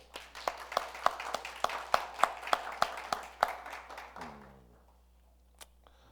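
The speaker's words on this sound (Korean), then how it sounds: "박수 한번 쳐줄까요?" A small group gives a few seconds of applause during a church service, loose and fairly close. It stops abruptly, and a low instrument note and a faint tap follow.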